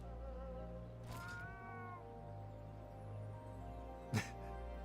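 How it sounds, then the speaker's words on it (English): Palico cat companion meowing in a video game, a clear drawn-out meow near the start and a short sharp one later, over a steady background hum, with no talking. "Oh wait, it's a cat."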